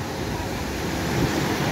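Sea surf at Praia Grande beach in Ubatuba, a steady broadband wash of breaking waves with some wind noise, continuous and fairly loud throughout.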